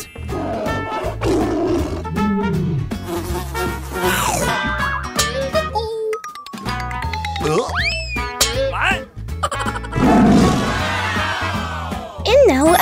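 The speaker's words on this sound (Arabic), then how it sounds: "إنه أسد." A lion roar sounds in a children's farm-animal show, loud and mixed into busy music, cartoonish boings and voices that run through the whole stretch.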